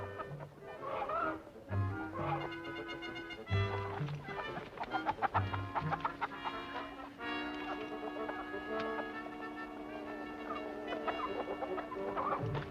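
Chicken clucks and fowl squawks mixed into a 1962 WWII television drama scene near a barn, heard amid dramatic orchestral music and scattered voices, moderately loud throughout.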